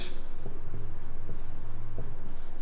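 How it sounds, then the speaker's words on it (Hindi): Handwriting, with faint scratchy strokes and a few light taps over a steady low hum, and no talking. "मैं लिख देता हूं"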